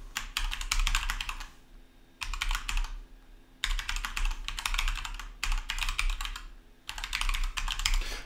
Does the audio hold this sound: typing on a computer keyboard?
yes